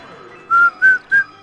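Someone whistles three short, loud, piercing notes close to the microphone, each rising slightly in pitch, with brief pauses between them in an otherwise quiet room.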